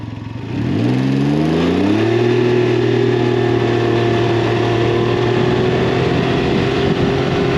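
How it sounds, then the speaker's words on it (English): A Can-Am Ryker's engine is given gas, rising smoothly in pitch over about a second and then holding at a steady high rev, a loud continuous drone with no gear shifts and no talk. "you give it the gas and it revs up and stays there"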